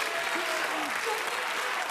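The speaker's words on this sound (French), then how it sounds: "On peut l'applaudir bien fort." A dense, steady burst of applause fills a room at a startup competition finale, with a voice faintly audible through the clapping.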